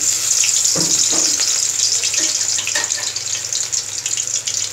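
Crushed garlic cloves frying in hot oil give a steady, loud sizzle that fills the whole stretch, with a few faint clinks and bubbling bursts along the way and no talking.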